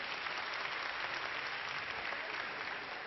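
An audience at a New Year 2018 ceremony claps steadily and evenly, a dense, moderately distant patter of many hands with no voices on top, sounding slightly muffled and thin.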